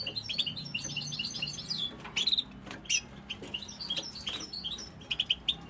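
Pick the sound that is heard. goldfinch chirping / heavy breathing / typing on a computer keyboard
goldfinch chirping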